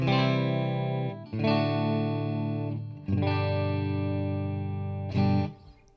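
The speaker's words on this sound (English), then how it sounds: "I'm going to let you hear just the clean, unaffected tone" Sustained electric guitar chords ring out plainly, several strummed and held in turn, with a dry, unprocessed tone and brief gaps between them.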